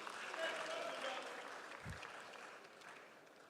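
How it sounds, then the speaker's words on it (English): Audience applause at a political parties summit, a broad wash of clapping that swells early and then slowly tapers over a few seconds, heard from a moderate distance in a large hall. "Let's give her a round of applause as well"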